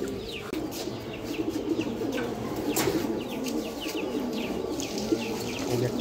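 Pet pigeons cooing in a loft, low throaty calls running under bursts of wing flapping and light chirps, close and fairly busy throughout.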